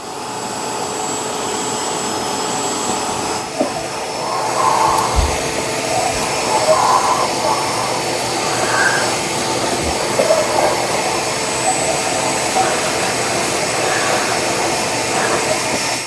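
A vacuum cleaner drones steadily inside a 1971 VW Super Beetle, a loud continuous whoosh with faint bumps and rattles as the nozzle moves around the interior.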